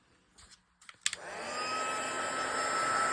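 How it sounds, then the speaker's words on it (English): A few soft clicks and handling noises, then a heat gun switches on with a sudden loud, steady blowing whoosh, running up close as it dries a gel plate print. "I'm using a heat gun here."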